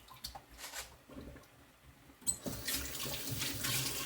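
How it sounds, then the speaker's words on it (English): Running water from a kitchen sink tap splashes over collard greens being washed, starting with a few quiet squishy handling sounds before the flow swells into a steady, close, full-bodied rush for the remainder. "I'm still going to wash them a couple more times"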